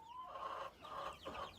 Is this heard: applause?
no